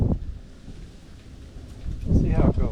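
Wind buffets the microphone on a windy day on a farm beside a square baler, a steady rough rumble that swells into stronger gusts near the end.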